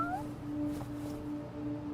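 A cat meows in a short, close, moderately loud call that rises and then falls, over a steady background hum.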